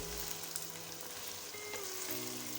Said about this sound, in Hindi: गोश्त का कलर चेंज होने तक हम इसको फ्राई करेंगे